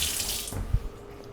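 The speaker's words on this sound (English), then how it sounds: "I'm gonna get some just clean water here." Clean water runs briefly from a kitchen tap into a sink, a close hiss that drops off with a thud and a small splash.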